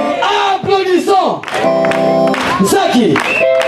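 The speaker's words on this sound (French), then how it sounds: "Applaudissons." A church congregation at a Pentecost Friday evening gathering bursts into loud, sustained applause and cheering, with whoops and voices rising over dense clapping throughout.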